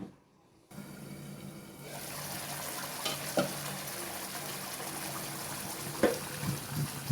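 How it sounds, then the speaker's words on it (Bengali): Ayer fish curry simmering in its gravy as the pan is shaken and stirred, a steady bubbling sizzle close by with a few sharp clinks of the spoon against the pan, no talking. "মাছটাকে একটু ছেঁকে নাড়িয়ে দিচ্ছি, যাতে তলানিতে লেগে না যায়।"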